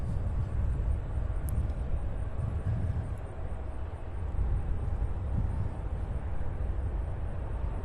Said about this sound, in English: that United flight that just took off, I'm sorry about this. It's taking off for Chicago, 7-year-old Embraer Air 175